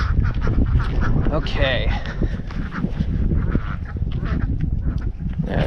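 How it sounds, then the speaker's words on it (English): Farm ducks quacking close by in a busy, overlapping chorus that keeps going throughout, with a person speaking briefly over the calls. "Friggin' ducks."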